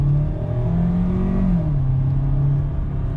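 Rental car with a steering-column paddle shifter revving as the accelerator is pressed, a loud, steady mid-pitched engine drone that climbs in pitch, drops back, then holds a level hum.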